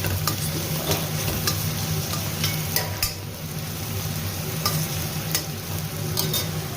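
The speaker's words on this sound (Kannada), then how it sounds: "ಸೊ ಈರುಳ್ಳಿ ಬೇಯ್ತಾ ಇದೆ." Onions fry and sizzle in a pan on a home stove with a steady loud crackle, and scattered clicks come from stirring with a spoon.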